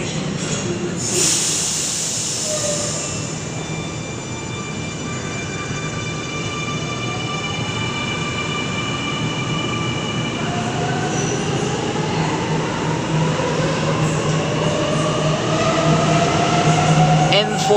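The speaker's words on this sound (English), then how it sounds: "Homebush via Strathfield service departing platform 5." A suburban train pulls away from platform 5 at Wynyard station, its motor whine climbing steadily in pitch as the rumble builds, loud and close.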